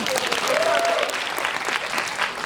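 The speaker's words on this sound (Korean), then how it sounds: "박수 좀 부탁드립니다" A cinema audience at a film screening talk applauds, dense clapping that holds steady then thins slightly toward the end, with a faint voice briefly audible underneath.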